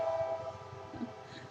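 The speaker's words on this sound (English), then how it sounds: "Train." A passing train is heard faintly in the distance, with a steady low rumble under a sustained horn-like tone, and no talking.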